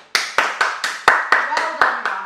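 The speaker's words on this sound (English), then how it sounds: "Should we give him a big clap?" About nine sharp hand claps ring out in an even, slow rhythm, close and distinct, each with a short decay.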